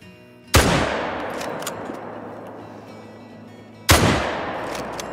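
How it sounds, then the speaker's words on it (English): Two loud, sharp FL Sporter .303 rifle shots ring out in a video game, about three seconds apart, each with a long echoing decay. "So let's see how well we do with a follow-up shot."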